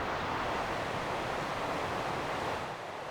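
Wild water of a river or waterfall in a Swedish summer landscape roars in a steady, dense wash, loud and continuous throughout with no voices.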